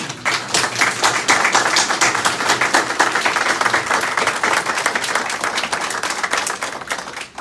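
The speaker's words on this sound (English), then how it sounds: "maybe I'll just pause there for some applause" Audience applause at a hospital redevelopment announcement for the Wallaceburg site, a dense, steady burst of many hands clapping nearby that carries on for several seconds before tapering slightly.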